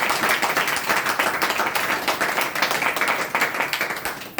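An audience at a gathering claps together, a continuous, fairly loud patter of many hands that holds steady throughout with no voices over it.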